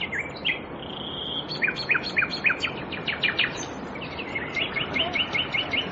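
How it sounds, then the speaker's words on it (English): Nightingales sing in an English wood, with repeated clear whistled phrases and rapid chirping trills over a soft background hiss, fairly close and lively. "Nightingales in my wood."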